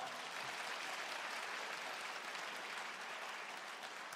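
Steady, even applause from an audience at a provincial public hearing on administrative integration in Haenam, a dense wash of clapping sustained without breaks and moderately distant.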